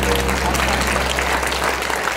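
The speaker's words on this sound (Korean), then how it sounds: "모든 감사의 박수 올려드리겠습니다." A church congregation claps together in sustained, dense applause, loud and steady throughout, with no gaps.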